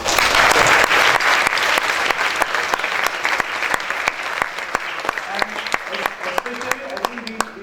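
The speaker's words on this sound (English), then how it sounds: "they deserve a big round of applause" An audience at a Toastmasters event breaks into loud, sustained clapping that gradually thins into scattered claps, with voices faintly underneath.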